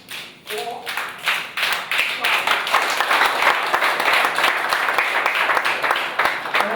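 An audience at a juice-brand event claps in a group exercise, starting with sparse finger taps that build into dense, loud, rhythmic clapping, with a voice calling out early on.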